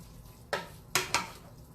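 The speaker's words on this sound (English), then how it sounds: "I'm going to stir it around" A spoon scrapes three quick strokes through a thick hamburger casserole mixture in a pot, short soft scuffs over a quiet background.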